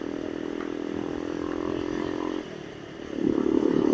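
A motorcycle engine drones steadily and loudly while riding, dipping slightly partway through before swelling into a stronger, rougher growl near the end.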